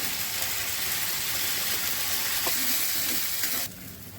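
Ground lentil paste goes into a hot pan with a steady, close hiss of frying. A couple of soft clinks come before the sizzle drops abruptly near the end.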